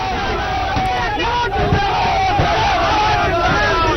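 A crowd of supporters shouts and yells outside as police take JD(U) MLA Anant Singh away in custody. Dense, loud, steady babble of many voices runs throughout.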